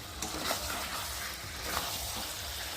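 Medium-cut potato pieces are stirred and fried in a pan for a chicken recipe, producing a dense, even sizzle with soft scraping from the spoon, close and steady throughout.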